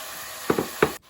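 Tomatoes are dropped into a pan of potato curry. Three quick soft thuds land over a faint background sizzle, then the sound cuts off.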